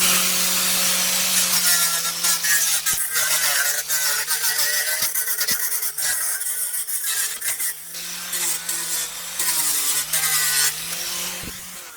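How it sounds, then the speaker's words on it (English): Loud, continuous grinding whine of a power sander grinding down fiberglass-reinforced filler, steady throughout with slight pitch wobbles as pressure shifts. "I'm going to grind it down with the sander."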